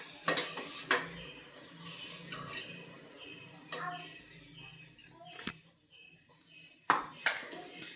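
A metal cake pan holding an eggless chocolate cake being lifted out of a cooker, with scattered clanks and scrapes of metal on metal and a few sharp knocks separated by quiet gaps.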